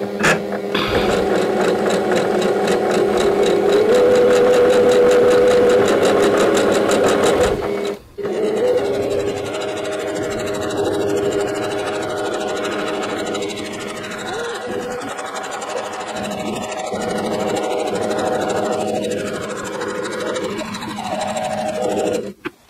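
A sewing machine stitches quilt strips for a Halloween checkers quilted game board, running steadily and close for about eight seconds before stopping, followed by quieter fabric handling.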